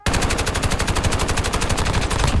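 An assault rifle firing without attachments in Warzone, one long loud unbroken burst of evenly spaced rapid shots, close up.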